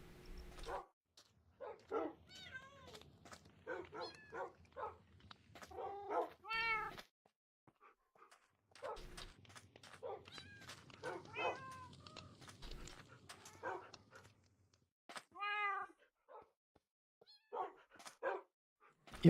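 Several cats in the Minecraft video game meow repeatedly in quick, overlapping bursts, close and fairly loud, with short quiet gaps between clusters over almost twenty seconds and no talking.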